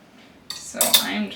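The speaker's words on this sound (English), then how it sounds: "So I'm just going to stir this and keep it on the low heat setting until all of my beeswax here has melted." A metal utensil clinks and scrapes in a small pan of melting beeswax and castor oil lip balm mixture over low heat, giving a few close, sharp taps.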